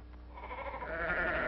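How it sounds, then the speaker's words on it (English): Sheep bleat in a steady, overlapping chorus that swells louder toward the end, heard in a 1952 film comedy with no talk over it. "No, those are sheep."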